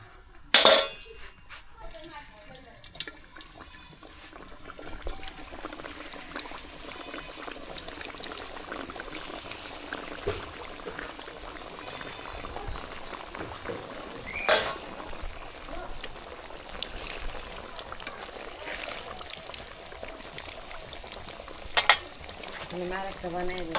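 Pieces of food slipped into hot oil in a village kitchen, a sharp splash followed by a continuous bubbling frying hiss, close and steady, with faint voices under it.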